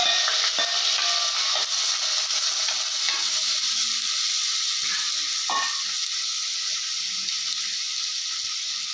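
Mustard and fenugreek seeds sizzling in hot oil, a loud, steady hiss with a few sharp pops and crackles near the start that eases slightly over time, close by with no talking.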